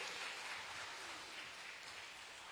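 A church congregation applauds two parking attendants at a Sunday service, a steady dense wash of clapping that holds at an even level throughout with no pauses.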